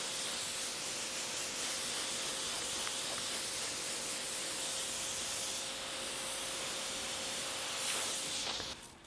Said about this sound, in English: just kind of using the pressure washer to get into all these little corners, just to get kind of power wash as much of that off as possible